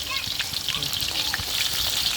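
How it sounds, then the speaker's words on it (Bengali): Chopped onion frying in oil in a kadai with whole garam masala and bay leaves, a steady close sizzle with soft crackle throughout, a voice briefly audible underneath. "পেঁয়াজটা একটু লাল করে ভেজে নিব।"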